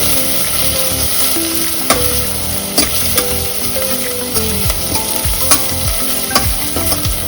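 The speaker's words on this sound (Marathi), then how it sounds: "असं हे परतून घ्यायचं आहे छान, जास्त ब्राऊन पण होऊ द्यायचं नाही" Mutton curry sautéing in a pan, a loud, steady sizzle with frequent scraping and clinking as a spoon stirs the meat and ground spices, heard close and without talk.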